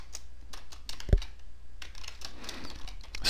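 Keys clatter in a steady run of light clicks as an address is typed into a business database form on a computer keyboard, close and fairly quiet, with one sharper knock partway through.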